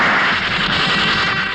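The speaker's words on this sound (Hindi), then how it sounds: "गोलियां चल रही है, गोलियां।" Gunfire in a Hindi comedy film scene, a dense, loud burst of rapid shots and crackling blasts that runs without a break through the short moment.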